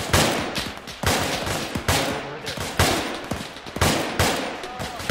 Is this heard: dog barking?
no